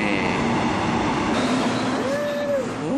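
A Seoul subway train runs through a tunnel with a loud, steady rumble and roar, and a brief rising wheel squeal appears near the end.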